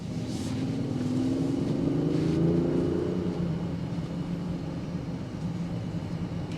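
A 2024 Range Rover Sport Dynamic SE SUV accelerates, heard from inside the well-insulated cabin as a muffled, low engine rumble whose pitch climbs smoothly and then settles into a steady hum.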